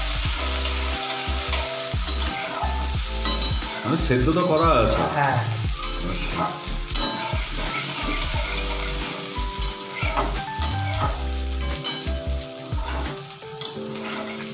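Boiled peas stirred and fried in hot mustard oil, a steady close sizzle broken by scraping stirs against the pan, with a brief spoken remark partway through.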